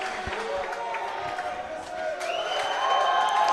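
Crowd at a college men's basketball game reacting around a free throw, a broad, moderately loud roar of voices and cheering that swells toward the end, with an announcer's voice talking over it.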